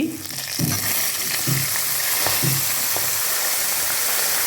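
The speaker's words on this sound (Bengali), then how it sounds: "ভালো করে আদাটা ভেজে এবার যে পাঁচমিশালি সবজিটা আমরা কুকারে সিদ্ধ করে নিয়েছি" Ginger and pressure-cooked mixed vegetables frying in a pan for a labra dish, a dense steady sizzle with a few soft periodic knocks of a spoon against the pan, no talk.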